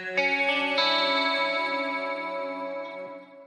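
A clean electric guitar processed through Helix Native with EQ, chorus, delay and reverb for a big 80s tone rings out in a few strummed chords that sustain and shimmer, then slowly decay, with no voices.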